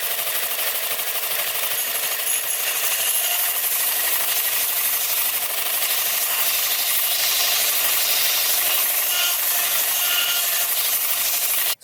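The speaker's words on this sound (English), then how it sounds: "I'm going to have to sand some of that down and get it to fit" A steel pipe for turbo Vortec 4200 Volvo intercooler piping is sanded down to fit a 3-inch pipe, making a loud, continuous abrasive rasping hiss that runs steadily without pause and with no voices.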